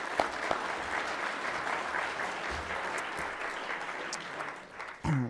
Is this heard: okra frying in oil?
no